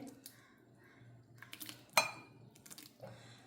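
A spoon stirs ground mango into a dessert in a pot. The scraping is faint and soft, with one sharp metallic clink near the middle, and no one speaks.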